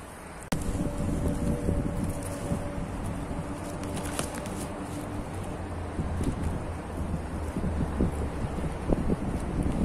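Steady wind buffets a fishing tent and microphone, a continuous loud rushing roar with gusty rumbles and occasional flaps across the whole stretch, no talk.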